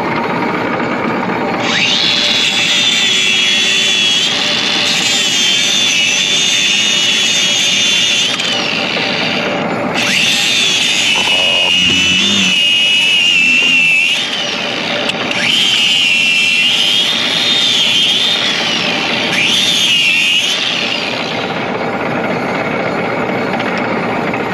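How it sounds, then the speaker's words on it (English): An angle grinder works on frayed steel cable from a poultry-house cable scraper, a loud high whine that surges in several long bursts, briefly dropping away between passes, with no voices. "I'm going to take a grinder and clean all that out."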